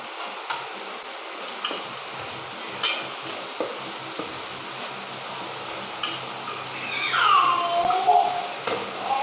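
Onions frying in a pan with salt added give a continuous sizzle with light stirring scrapes, a rising hiss toward the end, and no talk.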